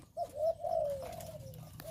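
A single trained decoy dove gives a clear, close coo with a sustained, gently falling tone, fairly faint against a quiet background with no talking.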